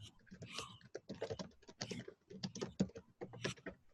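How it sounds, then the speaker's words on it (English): Computer keyboard typing during an online webinar, quick irregular bursts of key clicks throughout, fairly faint and close. "I can hear you typing away."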